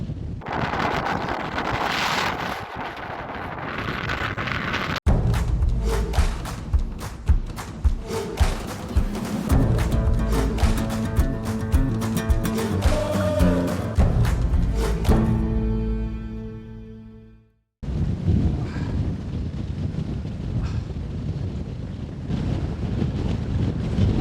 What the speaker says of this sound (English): Wow, what a gust. Sustained gust.